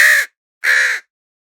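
A crow gives two loud, close, harsh caws separated by a short silence, each call clipped and rasping, with nothing else around.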